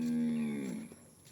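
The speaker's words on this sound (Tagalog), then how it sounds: "May baka pa." A cow moos on a muddy mountain trail: one loud, close, low bellow lasting about a second that trails off at the end.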